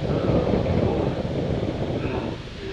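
Strong, unrelenting wind roars across the Carpathian mountains, a loud, low, continuous buffeting rush that pounds the microphone without pause.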